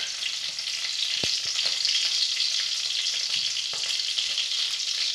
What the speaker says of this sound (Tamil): நான் தேங்காய் எண்ணெய் தான் ஊற்றியிருக்கேன். அதில் ரெண்டு பாதாம் போட